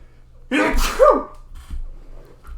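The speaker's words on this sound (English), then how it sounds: "Excuse me for a second, I have to sneeze." A single loud, close sneeze, sharp and breathy, followed by a faint breath afterward.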